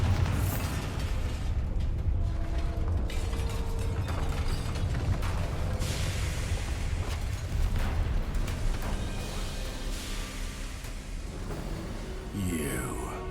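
A Bombarda blasting spell goes off in the Hogwarts Legacy video game, giving a loud, dense, rumbling burst that fills the scene, then a long churning roar of debris and clatter that slowly fades.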